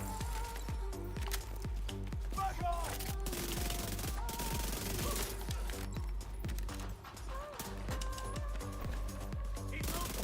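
Sustained automatic gunfire rattles against an enemy shield in The Division 2, rhythmic rapid bursts with metallic impacts, continuing over several seconds with brief pauses, while a player talks over it.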